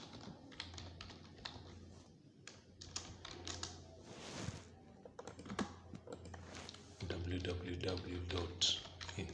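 Keys clack on a computer keyboard in quick irregular bursts, close and fairly soft, with a person talking over the typing throughout.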